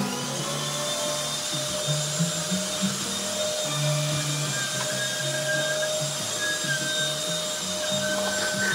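A powerful household vacuum cleaner running steadily, with a loud constant motor whine and hum and no talk.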